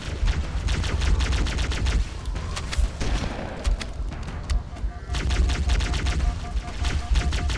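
Rapid gunfire from weapons in the first-person shooter Halo: Combat Evolved, dense bursts of automatic shots and impacts continuing loudly through most of the stretch, with a brief lull in the middle.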